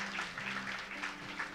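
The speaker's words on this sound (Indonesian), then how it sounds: "Beri tepuk tangan dulu dong Bapak Ibu." A church congregation applauds in a steady patter of clapping that holds at a moderate level for the whole moment, with no voices.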